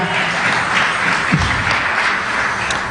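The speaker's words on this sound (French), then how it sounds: "Come on, clap your hands for Jesus." A church congregation claps steadily through the whole stretch, a dense, even wash of many hands with no break and no voices rising above it.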